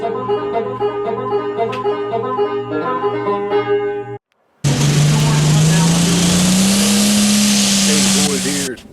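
A John Deere 4240 tractor engine with a custom turbo installation runs on a dyno. A steady harmonic drone breaks off briefly and returns as a loud, roaring load with a rising whine, while someone talks over it.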